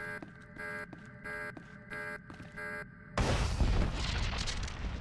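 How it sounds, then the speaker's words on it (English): Video game explosions from a Void Star bomb in an evil lair: a rhythmic pulsing tone of several repeated beats, then a loud sustained booming burst that rolls on to the end. "Explosions in the lair."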